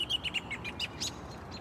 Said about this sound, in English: Loud birds behind me in this tree.